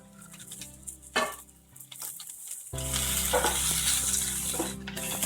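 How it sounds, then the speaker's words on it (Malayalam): Green chilli, garlic and ginger paste sizzle in a hot pan while being stirred, the frying hiss quieter at first then swelling loud and steady, with occasional scraping strokes. "നല്ല രീതിയിൽ ഒന്ന് ഇളക്കുക"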